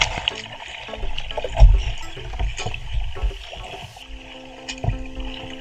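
Sea water sloshing and splashing around a kayak in calm, nearly windless conditions off the Jurassic Coast, a soft irregular lapping with a few louder splashes, close by.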